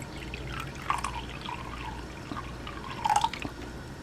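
Water poured from a cup while making an apple cider vinegar cranberry detox drink, soft splashing and dripping with a couple of brief louder bursts, close and fairly quiet.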